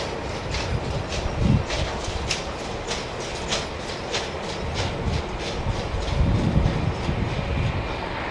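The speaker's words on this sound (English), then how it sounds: "The rattle is in airport vehicles, yeah." Airport freight vehicles at London Heathrow rattle past, their wheels giving a steady series of rhythmic clacks over a continuous rumbling roar, moderately loud and close.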